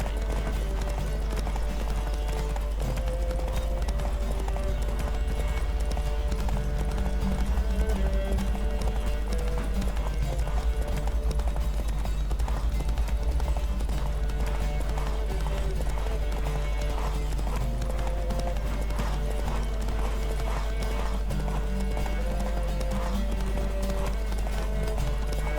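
A horse gallops in a race in The Witcher 3, steady rapid hoofbeats over a continuous low rumble, running throughout with game music and occasional voices beneath.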